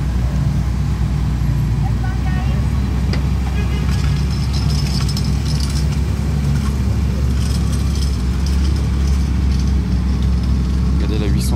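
A Ferrari 812 Competizione Aperta's engine rumbles at a Ferrari rally at Le Mans, a loud continuous low drone mixed with surrounding traffic noise, with people talking over it.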